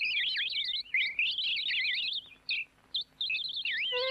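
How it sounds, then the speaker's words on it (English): Birds sing close by in quick, high chirps and warbling trills, broken by a few short pauses. "The birds sing."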